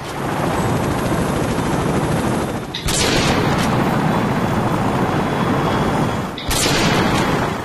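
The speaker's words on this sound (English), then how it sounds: "Pretty sure even an intervention can't take out an armored helicopter" An armored helicopter in Call of Duty: Modern Warfare 2 gives a loud, continuous, dense rotor and engine roar, briefly cut twice by sharp bursts that sound like gunfire, with no voices.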